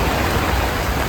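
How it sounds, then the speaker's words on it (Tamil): Heavy rain pours down at Marina beach, a loud, dense and unbroken hiss of falling water filling the whole moment with no voices heard. "ஏன்னா ஃபுல்லாக செம்ம மழையாக இருக்குது"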